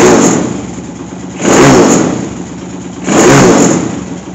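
A Zongshen 190 motorcycle engine being run in, idling loudly and revving up twice in quick bursts before settling back, recorded up close.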